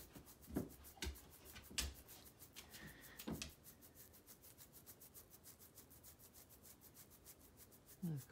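A dog is scratched on the rump, giving a quiet, rhythmic rubbing and scraping with a few soft thumps as it shifts, all close and fairly faint.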